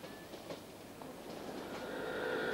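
A train runs along the railway with a continuous rolling rumble and faint rail clatter, growing gradually louder as it approaches, with no one speaking.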